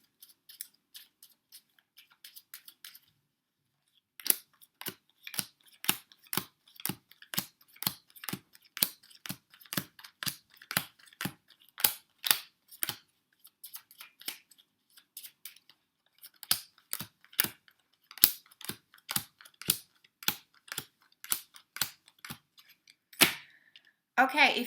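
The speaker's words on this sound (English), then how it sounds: "give me a minute while I shuffle the cards and lay down 10 piles" Tarot cards are shuffled and laid down into piles in a long run of sharp, evenly spaced snaps and slaps, crisp and close, after a brief quiet start.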